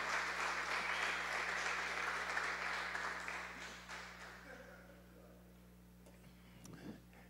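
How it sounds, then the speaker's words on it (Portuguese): An audience applauds for Sabrina during a pastor's talk, a dense wash of clapping that holds steady, then thins and fades to scattered claps over several seconds. "Uma salva de palmas para a Sabrina, gente."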